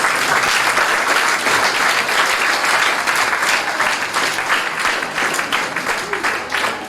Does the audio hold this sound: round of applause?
yes